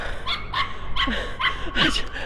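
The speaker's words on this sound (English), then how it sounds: "A little yappy dog frightened me." A small yappy dog barks on a street in Aberdeen, Scotland, giving about five sharp, fairly close yaps in quick succession over a low outdoor rumble.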